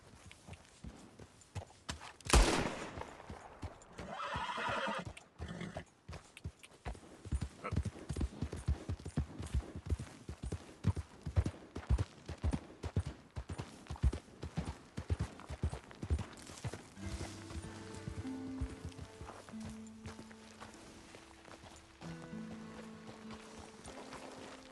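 Horse hooves gallop in Red Dead Redemption 2, a rapid, rhythmic clip-clop of fairly even beats that runs continuously, with a sharp cry near the start and faint game sounds underneath.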